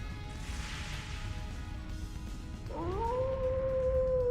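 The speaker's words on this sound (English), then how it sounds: "Did that howl cancel out the artifact's power?" A drawn-out wolf howl from the video game The Legend of Heroes: Trails into Reverie rises suddenly over a dense rumbling game-scene background, holding a steady, slightly gliding tone near the end.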